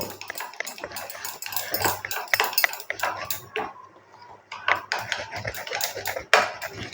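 A yogurt and spice marinade of turmeric and chili powder is stirred in a bowl for a fish curry, producing quick clinking spoon-on-bowl scrapes and taps in uneven bursts, close by, with a brief pause midway.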